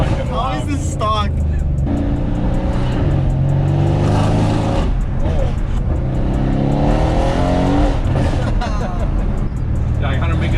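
Loud, close V8 roar from a Mercedes-AMG W205 C63S drifting, revs surging and sweeping up and down with tire noise mixed in, and excited voices talking over the engine throughout.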